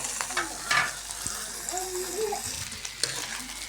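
Shrimp frying in a pan for a child's meal, a steady crackling sizzle with occasional stirring scrapes, close and moderately loud, with faint voices in the background.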